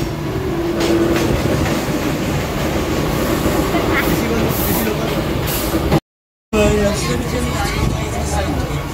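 Mumbai local train running near Chembur station, a steady loud rumble with rail rattle throughout and a brief dropout partway, with faint crowd noise in the carriage.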